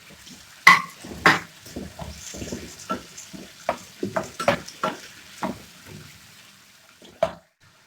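Chopped tomatoes cooking down in a pan for fish keema, stirred with a spatula, giving irregular scraping knocks and clatters over a low, soft sizzle, close by with no talking.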